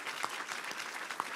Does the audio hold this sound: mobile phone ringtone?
no